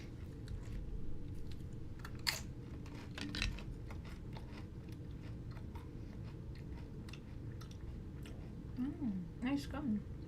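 Gum is chewed with soft, wet, irregular smacks and clicks close to the mic, while a voice talks lightly in the background.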